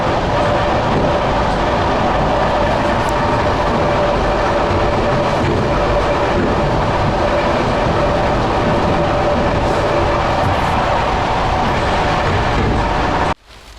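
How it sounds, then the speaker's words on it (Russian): Suburban electric train running, a loud continuous rumble with clattering wheels and a faint steady tone, close and unbroken until it cuts off abruptly near the end. "Это все сейчас набьются в эту электричку"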